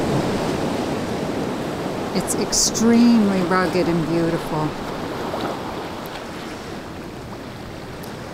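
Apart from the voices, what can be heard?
ocean waves rushing between rocks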